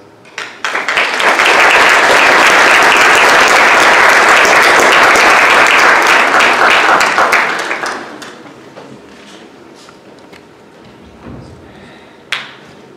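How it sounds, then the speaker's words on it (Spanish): Strong audience applause at a youth science forum, loud dense clapping sustained for about seven seconds before tapering off into quiet room noise with a few scattered claps and small thumps. "Otro fuerte aplauso, por favor, al doctor Epifanio Cruz."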